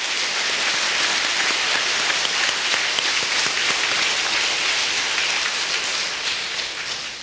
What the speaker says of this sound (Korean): 우리 모두 뜨거운 박수로 화답해 주시면 감사하겠습니다